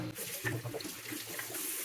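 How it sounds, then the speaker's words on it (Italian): Tap water runs steadily as a vacuum cleaner's separator is rinsed under it, a close splashing rush over the short moment. "Diamo quindi una sciacquata anche a questo che è il separatore."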